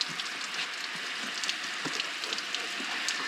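Steady spray of water pattering on a flip-up motorcycle helmet like rainfall, a dense close hiss of droplets hitting the shell without pause.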